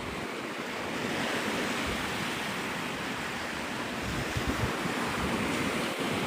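Ocean waves wash continuously onto the shore at Navarre Beach, Florida, forming a loud, steady broadband roar of surf with light wind noise and no distinct breaks.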